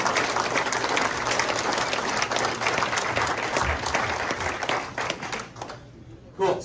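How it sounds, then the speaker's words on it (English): Audience applause at a winter blackmouth Chinook fishing seminar, dense sustained clapping from a room of people that carries on for several seconds before tapering off, with a brief burst at the end. "If you can all give Ron a round of applause."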